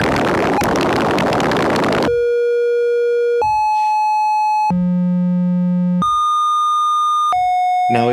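A Joranalogue Contour 1 modular synth patched as a sample and hold steps through a series of steady pure tones, each held for about a second and jumping to a new pitch, after a brief burst of noise at the start.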